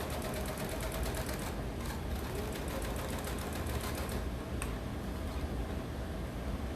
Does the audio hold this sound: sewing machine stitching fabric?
yes